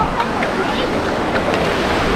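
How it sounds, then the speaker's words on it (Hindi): Water from the Seven Sisters falls at Cherrapunji (Sohra), Meghalaya, rushes in a steady, close, noisy roar with gusty texture, and a voice talks over it. "सिस्टम में से एक वाटरफॉल का पानी यहाँ से जा रहा है"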